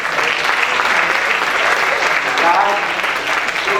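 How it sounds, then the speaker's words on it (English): Audience applauding professors at a campus gathering, a steady dense wash of clapping held at full level throughout, with crowd voices mixed in. "Let's give a big round of applause once again."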